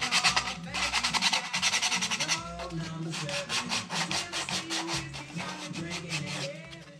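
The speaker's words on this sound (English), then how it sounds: "and then it was on to sanding." A wooden sauna ladle is sanded by hand, giving repeated rasping strokes of abrasive on wood. The strokes come in quick, even bursts, close and fairly loud, with no voices.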